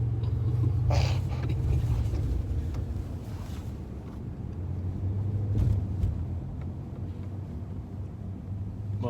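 A car drives through New York City streets, with a steady low engine and road rumble that swells and fades over about nine seconds, plus some wind buffeting and no voices.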